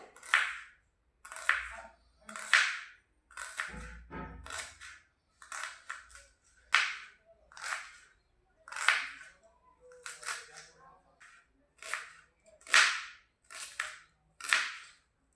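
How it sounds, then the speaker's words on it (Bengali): Knife chopping peeled onions into pieces on a board for a Bengali egg fry, a series of sharp, evenly spaced chops, close and distinct, with quiet gaps between. "তারপরে পেঁয়াজগুলো টুকরো টুকরো করে চপ করে নেব।"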